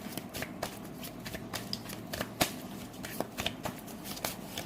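Tarot cards are shuffled by hand in quick, close riffling bursts and soft slaps, fairly quiet and repeated without pause, with no talking.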